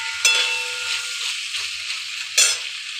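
Pumpkin sabji being stirred in a frying pan, with a steady close sizzle broken by two sharp scraping strokes, a few faint tonal squeaks between them, no voices.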